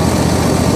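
A Husqvarna lawn tractor riding mower engine idles at low throttle, a brief steady close drone with a faint pulsing low rumble.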